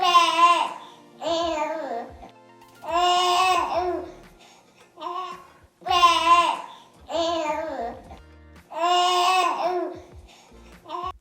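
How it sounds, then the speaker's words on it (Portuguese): An infant up to two months old coos and babbles in a series of drawn-out vowel-like sounds, about seven separate phrases with short pauses between them, close and clear. "um exemplo de sons que crianças de até 2 meses emitem além do choro"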